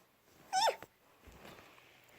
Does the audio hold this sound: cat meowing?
yes